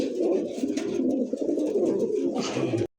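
Pigeons at a market sale cooing in a low, steady, throaty murmur, close and continuous for a few seconds before cutting off.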